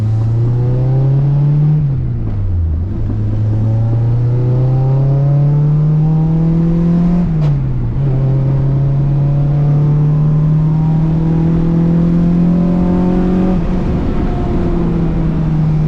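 A Honda K series engine revving hard into VTEC inside a moving car, a loud sustained climbing drone that drops at each gear shift and then rises again, with no talking.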